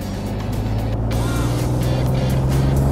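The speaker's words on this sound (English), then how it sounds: "Let's bring the engine in a third gear up to 3000 RPM" An Alfa Romeo Giulia in third gear on a DynoRoad dynamometer, its engine revving steadily to 3000 RPM for calibration: a loud, continuous engine drone with a sustained harmonic hum that holds nearly level for about three seconds, with no talking.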